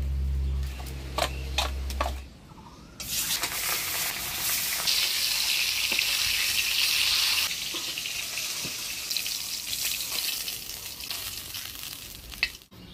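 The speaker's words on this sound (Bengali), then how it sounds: "মাছগুলা ভাজি নিলাম" Chela fish coated in turmeric and salt frying in a pan, a steady loud sizzle that rises after a brief pause and holds, with faint clinks early on.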